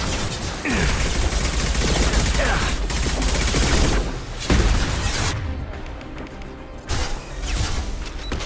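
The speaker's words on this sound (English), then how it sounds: "Taking fire." Gunfire in the video game Mass Effect 2: sustained bursts of automatic fire and heavy impacts, loud and dense, broken by short pauses and sharp blasts, with occasional character voices under the din.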